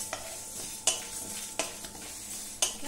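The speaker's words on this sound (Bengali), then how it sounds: "মশলাটা খুব ভালো করে ভেজে নিয়েছি।" Spices for a raw mango pickle fry in a pan while a spoon stirs them, giving several sharp, spaced clacks and scrapes against the pan over a low sizzle.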